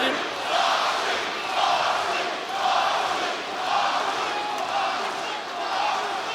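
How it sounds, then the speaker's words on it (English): A wrestling crowd at an AEW Worlds End 2025 match chants in unison for Jon Moxley, a loud, steady rhythmic roar of many voices repeating in waves across the arena. "a crowd chanting in unison for Jon Moxley"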